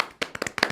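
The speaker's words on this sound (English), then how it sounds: "We can clap, right?" A handful of people clap in a short, sparse burst of a few separate claps, close and fairly quiet.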